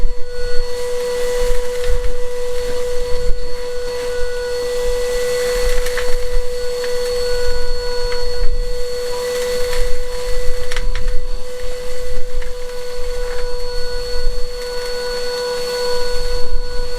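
A vacuum cleaner on a stone wall makes a constant loud whining hum with a steady high tone and rough scraping noise underneath, running continuously throughout.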